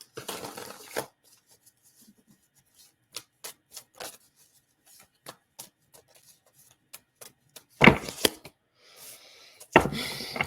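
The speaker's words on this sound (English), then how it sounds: "Shuffle one more time." Tarot cards are shuffled in quiet surroundings: a short riffle burst, a run of sparse light card taps and clicks, then two more sharp riffling bursts near the end.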